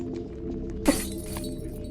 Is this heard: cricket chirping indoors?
no